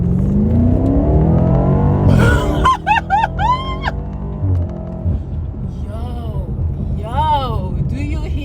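BMW M8 Competition Gran Coupe engine revving in track mode, a loud rising low-pitched roar that builds for about two seconds, then drops beneath a person talking over a steady engine drone.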